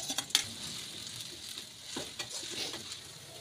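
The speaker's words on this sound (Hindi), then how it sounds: "मैं प्याज डालती हूँ, देखिए प्याज भी डाल दिया मैंने। इसको धीमी धीमी आंच में पकाना है।" Chopped onions fry in oil in a pan over low heat, giving a steady, close hiss and crackle with occasional scraping stirs.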